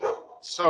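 A dog barks twice in the background, sharp and yappy, while a person keeps talking over it.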